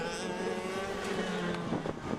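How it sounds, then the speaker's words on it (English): Go-kart engines drone steadily at a race in the Port Moresby GoKart Championship, with a brief tire screech rising near the end over continuous motor and wind noise. "Ooh, look at that tire screech"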